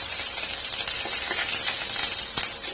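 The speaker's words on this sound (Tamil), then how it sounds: "இதுல ஒரு சின்ன துண்டு பட்டை சேர்த்திக்கோங்க. கூடவே கொஞ்சமா கருவேப்பிலை சேர்த்திக்கலாம்." A small piece of cinnamon and curry leaves crackle in hot oil for a cauliflower pepper fry, a dense, loud, unbroken hiss of sizzling with tiny pops, close up and free of talk.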